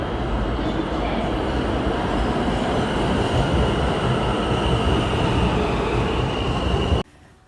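A New York subway L train arrives at the station on the Manhattan-bound track, loud continuous rumble and wheel noise with faint squealing close by, cutting off sharply at the end.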